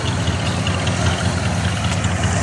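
A 1987 Jeep Grand Wagoneer engine idling, a steady loud low rumble with an even mechanical drone and no speech.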